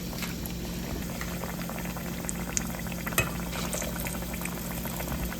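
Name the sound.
vadai batter frying in hot oil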